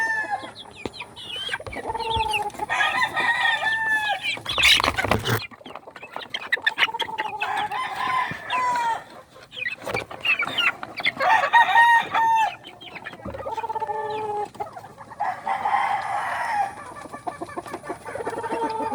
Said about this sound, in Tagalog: Bibigyan natin sa alaga kong sisiw